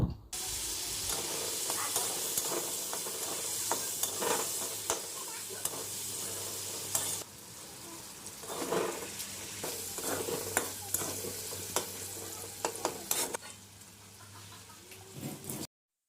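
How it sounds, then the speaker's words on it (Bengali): Potatoes fry with turmeric and salt in a pan, giving a continuous bright sizzle broken by frequent stirring scrapes and clinks of a spatula, fairly close and without talk. "আলুটাও সাথে ভেজে দিচ্ছি এখন আমি সামান্য পরিমাণ হলুদ গুঁড়ো আর সামান্য পরিমাণ নুন দিয়ে এগুলিকে ভালোভাবে ভেজে নেব"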